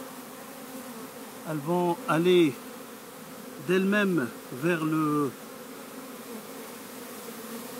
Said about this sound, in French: les abeilles se dirigent d'elles-mêmes vers l'entrée de la ruche